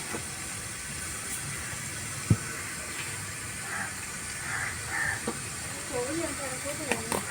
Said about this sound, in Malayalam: കടുക് ഒന്ന് പോട്ടെ.